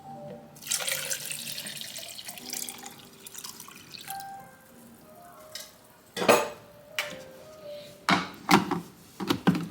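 Water poured into a turmeric-stained juice container, a splashing stream at first that thins into trickles, followed by several sharp knocks and clinks of the container.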